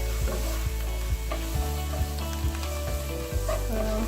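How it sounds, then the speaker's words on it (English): Garlic sizzles in hot oil in a pan for a chicken coconut curry, a dense crackling fry broken by regular scraping taps of a spoon stirring, close and steady without any talking. "Adding my garlic."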